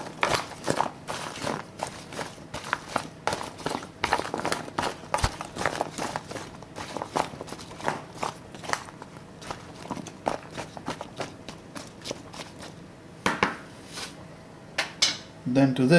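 A spoon clatters and scrapes against a bowl while mixing zucchini and tomato with salt, a steady run of sharp clicks and taps, close and fairly quiet.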